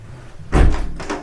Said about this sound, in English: I'm starting to shut this window.